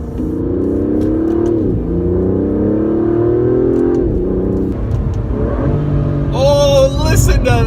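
An Aston Martin DB11 accelerates hard on an open road, its engine rising in loud, sustained revving pitch sweeps with brief shift dips, close and continuous throughout.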